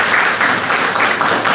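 A burst of applause from a group of students in a university tutorial class, dense continuous clapping throughout, loud and close.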